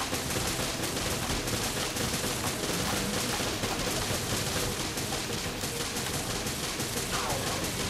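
Continuous dense gunfire from a magnum and a machine gun in Resident Evil Revelations Raid Mode co-op, with rapid shots blurring into a steady loud barrage and no clear gaps.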